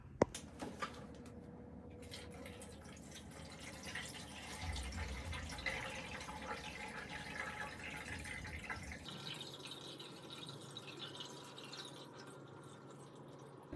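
Water poured into an Aerogarden Harvest indoor garden, a steady close trickle and splash that runs for several seconds, shifting in tone partway through as the reservoir fills and some spills.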